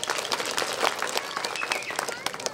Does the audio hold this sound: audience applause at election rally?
yes